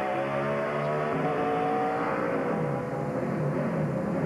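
Onboard engine of Greg Biffle's race car in the 2006 Ford 300 at Homestead, droning loud and steady with a harmonic whine as a gear change fails to engage, with no clear drop in pitch.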